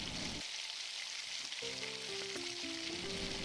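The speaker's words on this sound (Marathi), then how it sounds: "तीही आपल्याला व्यवस्थितपणे परतून घ्यायची आहे" Onion and a mixer-ground paste sautéing in a pan for pav bhaji: a low, steady sizzle runs throughout, with brief tonal clinks and scrapes partway in, quiet and without speech.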